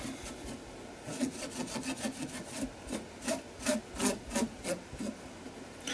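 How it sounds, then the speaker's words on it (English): A wet wipe is rubbed across a gelli printing plate in a series of quick, scratchy back-and-forth strokes that grow more rhythmic toward the end, close and fairly faint. "Just a quick wet wipe."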